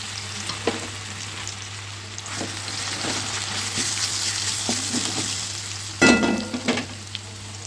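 Chopped raw mango sizzles steadily in hot oil with dried red chillies in a pan, while a spoon scrapes and stirs now and then, and a louder clatter of stirring comes near the end.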